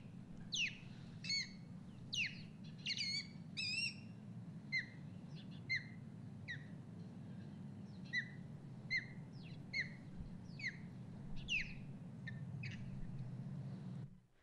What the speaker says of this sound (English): you can kind of hear it's a combination of whistles and chirps. This is the alarm call.